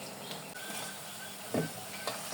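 Gram flour laddu pieces frying until crisp in hot oil, a steady close sizzle with occasional scrapes and stirs of a spatula in the pan, with no voices.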